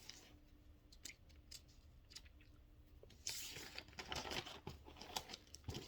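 Gardening shears snip through a magnolia stem at close range, giving a few sharp crisp cuts and rustling crunches that grow busier and louder toward the end, with no talking.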